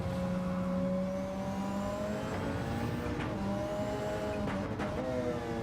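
Engine notes of a race car in a racing video game rise and fall through gear changes, with tonal revving throughout and a brief tyre scrub near the end.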